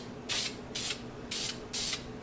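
Four short, even bursts of spray primer hiss close by onto a Honda Sabre motorcycle fairing, each about a fifth of a second long with brief pauses between.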